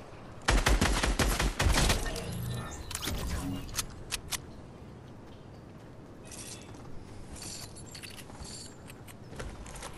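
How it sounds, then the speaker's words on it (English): Rapid bursts of video game gunfire crackle loudly in the first few seconds, then thin out into scattered, fainter shots over a steady background; no one speaks. "Where am I getting shot from"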